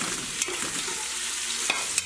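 Four sliced onions frying in a biryani pot, a steady hiss of sizzling with occasional stirring scrapes and clinks, close and alone without talk.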